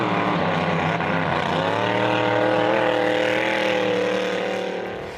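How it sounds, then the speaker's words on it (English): Loud inboard racing hydroplane powerboats roar past at a classic boat show demo run in Gravenhurst, Ontario, engine pitch sliding as they pass before the sound fades at the end. "The real attention getters were the loud and powerful inboard hydroplanes"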